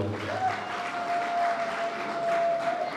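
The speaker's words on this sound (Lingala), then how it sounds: "Sous vos applaudissements, bien sûr." Applause at a wedding celebration, a steady wash of clapping from a crowd over about three seconds, with a faint sustained tone running beneath it.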